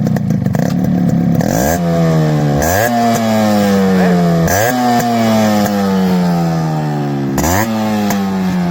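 A fully restored vintage Yamaha RX 100 two-stroke motorcycle engine revs repeatedly, climbing in sharp bursts then dropping back to a buzzy idle, loud and close with no talking.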